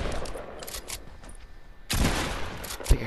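Shotgun fire in the Fortnite video game, with one sharp loud blast near the end and other gunfire bursts around it.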